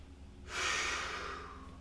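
A deep breath drawn during a mobility exercise: a steady, airy rush of breath that starts abruptly partway in and holds for over a second, close and clear against a quiet low hum.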